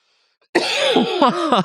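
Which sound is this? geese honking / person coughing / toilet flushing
person coughing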